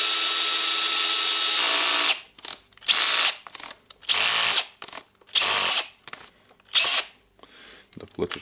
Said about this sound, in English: Now, of course, we can test the drill.